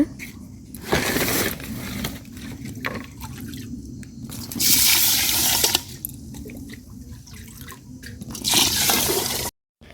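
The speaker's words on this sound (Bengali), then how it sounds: "দেখি চালটা ধুয়ে নিই" Rice is washed by hand in a bowl of water, with sloshing, swishing and trickling in bursts, close and fairly loud, a few faint household clatters around it and a brief silence near the end.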